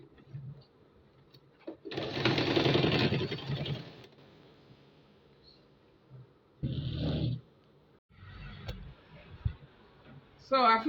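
Sewing machine stitching fabric with a net layer inside, a loud two-second run of rapid stitching followed by a shorter burst and a few brief clicks, with quiet pauses between.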